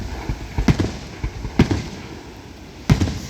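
Fourth of July fireworks go off outdoors on a hot, foggy, smoky night after rain, giving several sharp bangs spaced over a few seconds amid crackle and ambient rumble.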